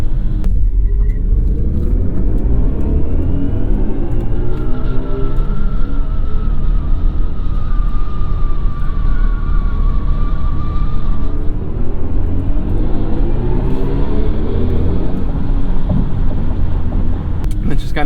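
2022 BMW i4 M50 electric car driven quickly in dry conditions on a highway on-ramp, a loud continuous road rumble and tyre roar with a faint rising motor whine in the middle.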